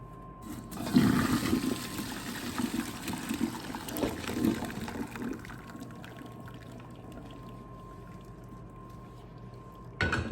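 Water from a pot of boiled yams poured off into a sink, a loud gushing splash for a few seconds that tapers into a faint trickle.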